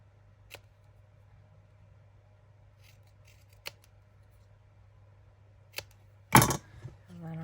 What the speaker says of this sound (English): we get to sharpen our scissors at the same time